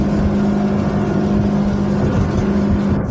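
Maxima 700 Sport boat powered by a Honda 150 V-TEC outboard running at speed, around 32 knots and 6,000 RPM, a steady loud engine drone with water rush that holds constant throughout, no talking.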